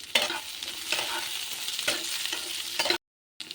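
Drumstick, beans and cucumber for shukto fry in oil while being stirred, with rhythmic close scraping strokes over a sizzling hiss, followed by a brief silent gap and a short return of sound.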